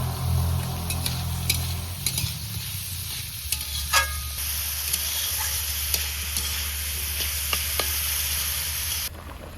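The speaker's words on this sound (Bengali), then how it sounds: "কড়াই গরম করে সাদা তেল দিয়ে দিয়েছি তার মধ্যে এই সবজিগুলো দিয়ে একটু লবণ আর একটু চিনি দিয়ে আমি সবজিটা ভালো করে ভেজে নেবো" Mixed vegetables fry in hot white oil in a wok with salt and sugar, a continuous sizzle and hiss broken by sharp scrapes and clinks of stirring against the pan.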